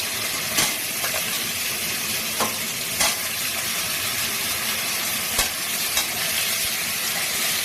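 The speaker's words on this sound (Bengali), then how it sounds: "এখন এই কাঁচকলাগুলো দিয়ে দিল।" Raw green banana pieces fry in hot oil in a pan used for frying fish, a constant close sizzle broken by several brief scraping stirs.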